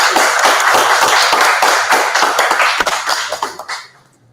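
Applause from a lecture audience, a dense patter of many hands clapping loudly and steadily, then thinning and fading out near the end.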